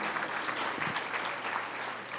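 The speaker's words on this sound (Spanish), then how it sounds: "Un fuerte aplauso, por favor," Steady applause from a seminar audience, a dense continuous wash of many hands clapping at a moderate distance, filling the whole moment without voices on top.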